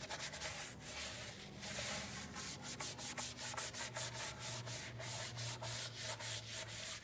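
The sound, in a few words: scrubbing a rubber car floor mat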